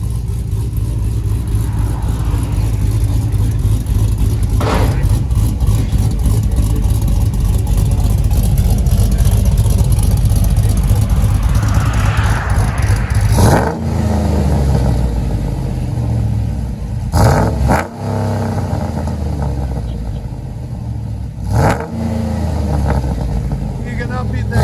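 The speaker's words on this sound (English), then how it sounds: "Can't beat that idle, man." A 2007 GMC Yukon Denali with a cammed 6.2L LS V8 and Magnaflow exhaust idles loudly up close, its lumpy, choppy rumble holding steady while people talk over it.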